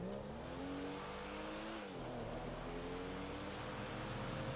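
A video game car steered with a controller gives a steady engine drone with shifting pitch, rising and dipping in even revs, continuous and fairly quiet throughout with no talking.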